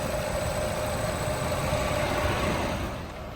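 A 2016 Nissan Altima SL with about 100,000 miles idles steadily under an open hood, a smooth continuous engine hum heard close up with no talking.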